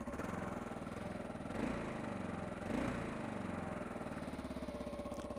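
A 2012 Kawasaki KLR 650 motorcycle with its stock muffler idles with a steady, even, fairly soft throbbing note, rising briefly twice as the throttle blips.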